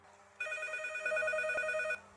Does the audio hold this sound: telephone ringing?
yes